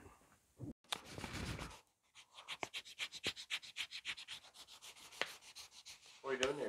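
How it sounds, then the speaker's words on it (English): A bushcraft knife handle of G10 sanded by hand with 800 grit sandpaper: quick rhythmic rasping strokes, close and fairly soft, after a brief scrape and pause, with no talking. "I'm sanding this thing a little bit."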